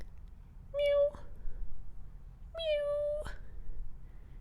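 A person's voice imitates a cat, giving two drawn-out whiny meows about a second apart, close and clear over a faint room background.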